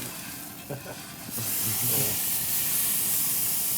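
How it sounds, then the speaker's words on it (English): Wagyu beef seared on a very hot grill flares into a loud, steady hiss and sizzle after a few quieter clicks and knocks, with someone speaking briefly at the start. "I'm gonna sear these suckers one more time"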